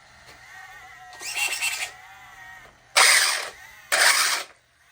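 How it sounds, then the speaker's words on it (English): Traxxas Slash 4x4 RC car fitted with a new Velineon brushless system, its motor whirring in two or three short, loud bursts with a rough, slightly strained whine between quieter idle moments, close by. "Motor might be a little bit too pressed, but with the new system in, doesn't sound good"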